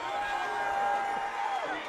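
A home crowd at a Chavez vs Henderson fight roars steadily in celebration of the hometown winner, a dense sustained wash of cheering and shouting that stays loud throughout.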